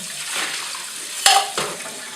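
Water runs steadily while developed film is rinsed and washed after Rodinal development, a soft continuous splash with a brief clatter of a tank or container partway through.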